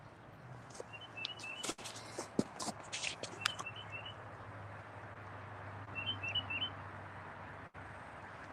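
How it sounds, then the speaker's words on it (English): Birds sing in a backyard beside a Solo Stove Bonfire: scattered bursts of chirps and short trills, fairly faint and some distance away, over a quiet low hum with occasional light knocks and rustles. "Listen to the birds sing."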